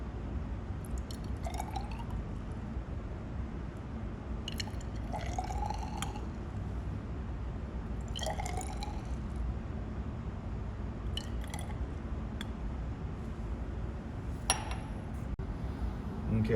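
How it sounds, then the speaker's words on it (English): Solution is added to a row of chemistry test tubes, about ten millilitres each, for an equilibrium experiment. Soft intermittent pours and trickles with a few clinks of glass come over a low background hum, with no voices. "take our solution that we made previously and add about 10 milliliters to each of our test tubes"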